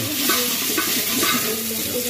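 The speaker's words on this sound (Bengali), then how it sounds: "আমরা চাউলটা ভাজা ভাজা করতেছি।" Rice fried in a pan with a spiced paste and salt while making plain pulao, about three kilos of grain, gives off a steady close sizzle as it is stirred, with scraping and grain rustle and no voices.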